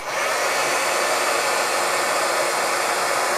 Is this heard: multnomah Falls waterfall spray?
no